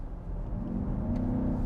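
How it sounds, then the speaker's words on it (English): BMW XM hybrid with its V8 cutting in under hard throttle, a low engine rumble building and rising in pitch over a couple of seconds as the car accelerates, close and fairly loud. "If I smash the throttle, the V8 will turn on, and then it'll work in tandem together."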